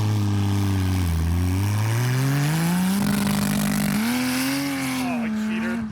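A barn-find 1968 Dodge Charger launching on a dirt race track, its engine roaring loud and close as revs climb, dip and climb again in a sustained rising drone.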